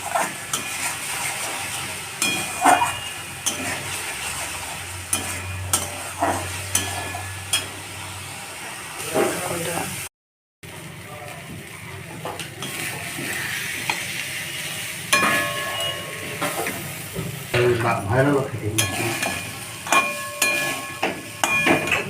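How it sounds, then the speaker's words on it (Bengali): Spices and cumin powder stir-fried with whisked curd for Bengali fish kalia, heard as a soft ongoing sizzle with repeated spatula scrapes and pan knocks, a brief dropout midway, no voices. "জিরের গুঁড়োটা দিয়ে দিলাম, দিয়ে ভালো করে কষে দেবো।"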